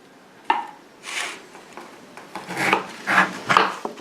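A knife slicing through rolled gingerbread on a board, giving a few soft scraping cuts and light taps close by, quiet and spaced out over a few seconds.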